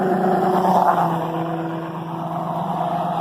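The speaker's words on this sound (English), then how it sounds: "Traffic." Road traffic passes beside a suburban lawn, giving a continuous, moderately loud whooshing hum with faint engine tones that swell and fade over several seconds.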